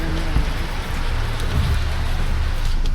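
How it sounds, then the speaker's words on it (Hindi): Heavy rain pours steadily in a dense, continuous hiss, close and loud, with no voices. "काफ़ी तेज़ बारिश हो रही है भाई।"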